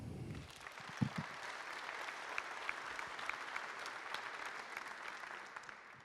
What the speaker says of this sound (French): Et on peut les applaudir.